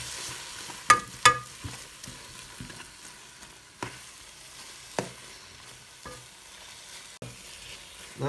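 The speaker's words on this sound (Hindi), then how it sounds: "और साथ साथ हम इसको भूनते रहेंगे ताकि इसमें से ऑयल आना जो है वो शुरू हो जाए।" Grated carrots for gajar halwa fry in oil in a pan while a spoon stirs and scrapes them, giving a low steady sizzle with several sharp scraping knocks spaced a second or so apart, close up and without talk.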